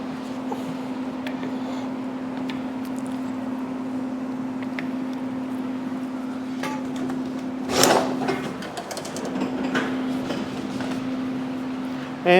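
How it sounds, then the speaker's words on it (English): A steel tube, coated in bending lubricant, slides into a tube bending machine in a drag car back-half fabrication shop; a short scraping rush stands out over a steady, low electrical hum. "slide the tube into the machine."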